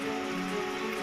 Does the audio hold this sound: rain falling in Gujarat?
yes